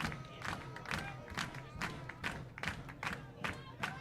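A baseball crowd at a summer-league championship game claps in a steady rhythmic beat, roughly twice per second, with cheering voices mixed underneath, heard from a distance.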